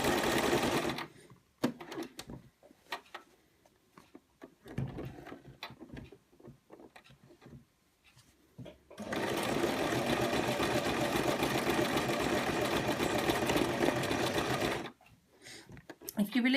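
A sewing machine free-motion stitching a sugar skull pincushion runs in a steady, loud burst of rapid needle chatter for several seconds, preceded by scattered short stitching bursts and handling noises with some talk.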